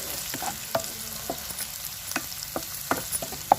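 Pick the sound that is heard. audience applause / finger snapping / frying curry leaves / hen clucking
frying curry leaves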